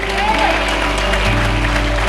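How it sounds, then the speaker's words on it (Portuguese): A church congregation applauds during a sermon, a steady mass of clapping carried under a low hum and a voice. "Isso, aplauda ele."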